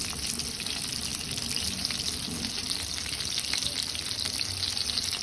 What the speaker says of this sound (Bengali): আমি এখন ভাজতে চলে যাবো।